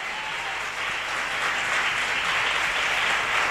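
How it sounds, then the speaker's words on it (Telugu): A church congregation claps in praise, a dense, steady wash of many hands applauding together that swells slightly louder as it continues, with no talk over it. "చప్పట్లు కొడుతూ మన సంతోషాన్ని వ్యక్తం చేద్దాం"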